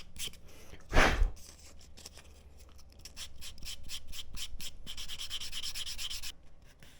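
Hand sanding a leather wallet with sandpaper: a loud scraping burst near the start, then steady rhythmic rubbing strokes that grow brisker and brighter toward the end before stopping.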